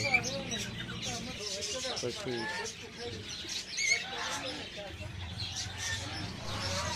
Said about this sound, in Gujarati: અલગ અલગ તમને બધી જાતની વેરાયટીના પક્ષી બધા જોવા મળશે